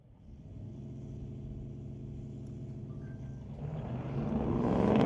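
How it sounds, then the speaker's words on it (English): Pickup trucks, a black Chevrolet and a red and silver one, launch in a junior street drag race, their engines droning steadily before swelling into a louder revving roar near the end. "Josephine Smith leads the way in the black pickup."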